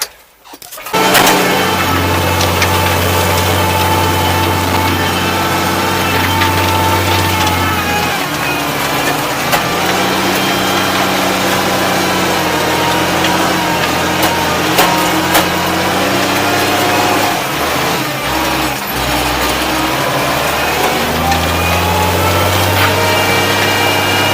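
Zetor 16145 tractor engine driving between farm fields, a close, steady diesel drone with strong low harmonics that shift in pitch as the engine load and speed change, no talk.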